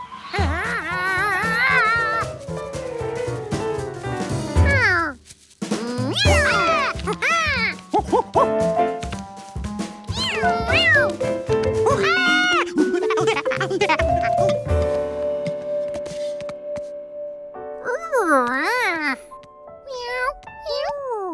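A cartoon cat meows in a high, bending, melodic cry during a kids' animated chase game about catching a plane, heard amid busy musical scoring and sound effects.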